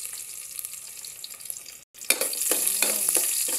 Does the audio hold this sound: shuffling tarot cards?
no